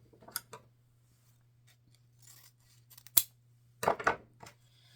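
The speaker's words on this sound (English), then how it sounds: "Pick up my ribbon from my basket, cut another dovetail." Scissors snip ribbon into a dovetail end for a plaid bow, giving a few sharp, close cuts: a double snip early, another crisp one near the middle, then a quick cluster of cuts near the end against quiet surroundings.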